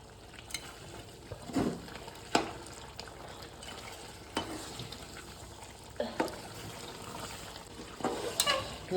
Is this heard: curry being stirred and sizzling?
yes